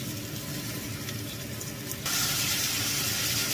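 Marinated wild boar meat cooking in a sizzling pan with Star margarine, a steady loud hiss and crackle that swells abruptly to a stronger, brighter sizzle partway through.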